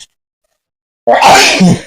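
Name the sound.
sneeze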